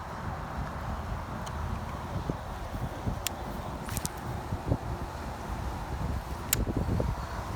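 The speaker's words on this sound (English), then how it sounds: "Wind's blowing a little bit today." Steady wind blowing across a grassy pond on a hot day, a continuous low rushing rumble with faint rustling and occasional soft bumps throughout.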